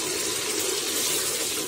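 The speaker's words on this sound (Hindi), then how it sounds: "और फिर इसमें मैं पानी डालूंगी।" Water is poured into a pot of chana pulao with lemon and spices, giving a steady, continuous gushing splash that stays close and even for under two seconds with no talking.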